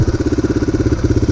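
A motorcycle engine idles close by on an off-road trail near a waterfall, a steady loud rapid chugging pulse with no voices over it.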